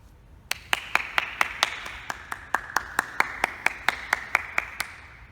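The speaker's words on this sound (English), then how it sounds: "I want us to take a moment and give a round of applause to our teachers and parents" A graduation audience gives a round of applause for teachers and parents: separate, evenly spaced claps ring out steadily and sharply, more like a few people clapping in rhythm than a large crowd.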